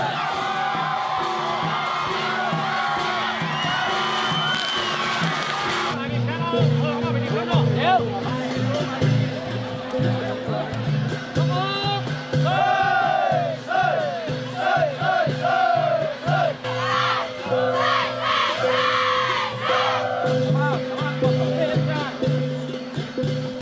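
A large outdoor crowd at a dragon boat race cheers, whoops and shouts continuously, with loud bursts of yelling rising and falling over a busy background of babble.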